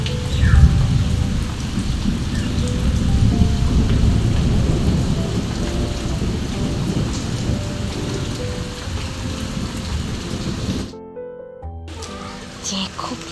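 Heavy rain pours down loudly with deep rumbles of thunder, continuous and close, before cutting out briefly near the end.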